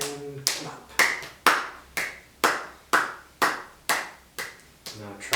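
Sharp hand claps during a gentle yoga wake-up routine, about ten evenly spaced claps roughly every half second, close and crisp, each with a short ringing decay, alone without talk.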